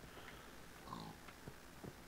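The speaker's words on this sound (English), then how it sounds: "Pigs, you're supposed to run here." Minecraft pigs on a farm give a few short, faint oinks and grunts, spaced irregularly against a quiet game background.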